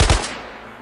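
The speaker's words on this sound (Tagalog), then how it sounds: "Putok ng baril." A single loud gunshot fired as a warning, with a sharp blast and a decaying echo tail trailing off over most of a second, heard alone without voices.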